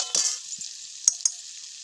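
Water sprinkled into a frying peanut mixture sets off a short burst of sizzling hiss that quickly fades, followed by a couple of sharp metallic clinks from the pan, close and fairly quiet.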